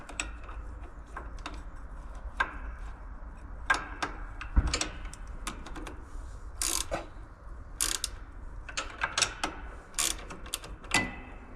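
Small bolts nipped up with a ratcheting tool on a Splitta 400 log splitter during maintenance: sparse, close clicks and short ratchet bursts at irregular intervals over quiet background.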